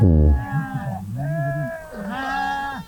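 Goats in a grazing herd bleat loudly and close by: one sharp cry, then two longer, wavering calls with no talk over them.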